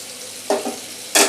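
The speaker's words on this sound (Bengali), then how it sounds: "পেঁয়াজের মধ্যে টমেটো দিয়েছিলাম একটা, আর দুটো কাঁচা লঙ্কা। এটা ভাজা ভাজা হয়ে গেছে।" Onion, tomato and two green chillies fry in a pan. Two short sizzling bursts as the mix is stirred are followed by a louder hiss, all close by.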